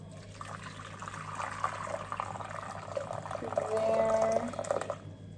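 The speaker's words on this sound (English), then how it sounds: "So I'm just going to go in with our hot water." Hot water poured from a kettle into a cooking pot at home, a soft, close trickling and splashing that swells toward the end and then stops.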